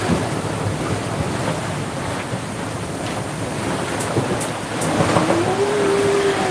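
Ocean waves wash and surge around a sailing boat on the Banda Sea, a steady loud rush under strong wind buffeting the microphone, with no one talking.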